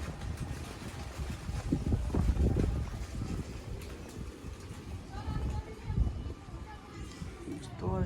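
Wind rushes steadily across the microphone, with low rumbling gusts and a voice speaking over it.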